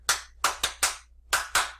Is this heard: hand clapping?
yes